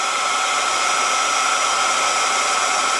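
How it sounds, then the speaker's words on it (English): A heat tool blows a steady, loud whooshing drone without a break while melting gold embossing powder on a Christmas card. "Now we'll heat it. Use the heat tool and emboss it."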